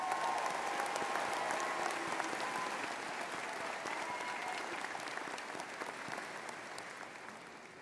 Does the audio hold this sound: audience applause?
yes